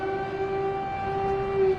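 Air raid siren wailing across Ukraine during wartime, a steady sustained tone holding at a fairly loud level through the short stretch, with no talk over it.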